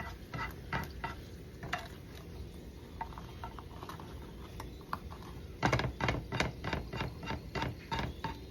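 Chicharrón frying in oil in a pan, with an even crackling sizzle and repeated sharp clicks and scrapes of a utensil moving it around, louder toward the end.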